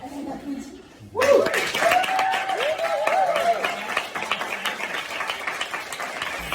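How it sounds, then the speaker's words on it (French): Audience applause at an open-stage comedy night in Berlin, starting abruptly after a quiet moment and filling the room as a dense, steady patter of clapping with a few cheers and whoops mixed in. "allez, on applaudit."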